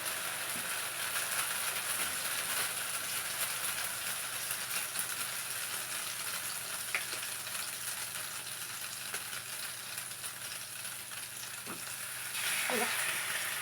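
Bread slices soaked in egg sizzle and fry in a pan, a steady broadband crackle throughout with a brief louder burst near the end.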